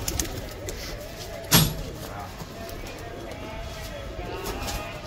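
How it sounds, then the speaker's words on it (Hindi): Pigeons coo softly in the background while someone talks nearby in Hindi, with one sharp clatter partway through. "तो ये कबूतर है हाँ,"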